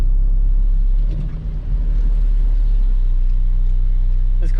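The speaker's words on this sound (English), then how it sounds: "The exhaust sounds absolutely perfect." Supercharged Acura RSX with an aftermarket exhaust combo, heard from inside while driving: a steady, loud low engine and exhaust drone that dips briefly, then holds on.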